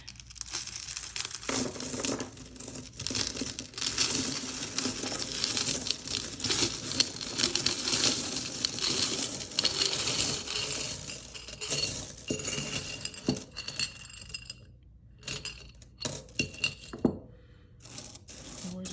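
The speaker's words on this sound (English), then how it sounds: "So let me just dump all of it out real quick." A pile of coins poured out onto a surface for counting, a dense, continuous metallic clinking and jingling that runs for most of the stretch, then thins to scattered clinks and brief pauses near the end.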